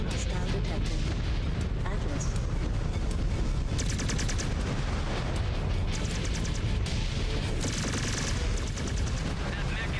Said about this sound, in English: Ah, somebody's shooting.